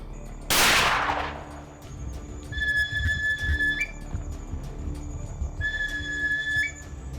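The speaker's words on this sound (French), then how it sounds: "un autre coup de feu retentit" One sharp hunting-rifle gunshot from a dozo hunter at night cracks out loudly, its echo fading into an outdoor background where high whistling tones come and go.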